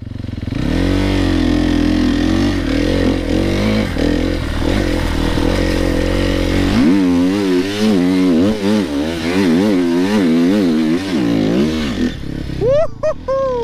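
An enduro dirt bike engine rides downhill, loud and close, its note shifting from a steady drone to a fast wobbling rise and fall of revs, with clatter over rough ground and a rider's voice at times.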